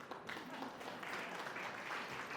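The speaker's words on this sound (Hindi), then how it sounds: "तो आप अपने लिए तालियां बजाइए।" Audience clapping at a Hindi speech event, a brief burst of soft, fairly distant applause in a hall.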